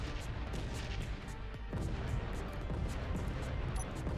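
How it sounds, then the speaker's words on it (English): Rear turrets of a Star Wars Arquitens light class cruiser firing in the Space Engineers game, a continuous dense barrage of booming gunfire with overlapping blasts at steady loudness, no talk. "The rear turrets are firing."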